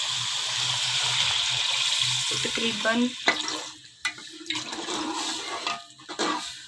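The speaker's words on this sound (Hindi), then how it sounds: "अब मैं इसमें पानी डाल दूँगी।" Water is poured into a hot pan of peas for matar pulao, setting off a loud sizzle and splash, followed by intermittent stirring and scraping. A voice speaks briefly.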